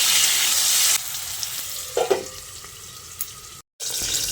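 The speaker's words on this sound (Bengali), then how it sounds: "মাঝে মাঝে এরকম ঢাকাটা খুলে আলুটাকে এরকম নেড়ে চেড়ে মিশিয়ে নিতে হবে।" Potatoes stirred as they fry in a pan make a loud sizzle that drops sharply when the lid comes off. A couple of spatula clinks and scrapes follow, then a brief gap and the sizzle returns.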